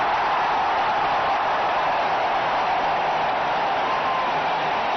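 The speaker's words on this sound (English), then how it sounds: "it really has brought the crowd alive" Cricket stadium crowd at an India vs Australia one-day international roaring and applauding after a six, a dense, steady wash of cheering and clapping filling the whole stretch at high volume with no pauses.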